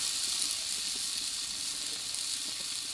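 Steady, loud sizzling of potato and papaya frying in a pan as water is poured in, a dense hiss running unbroken throughout.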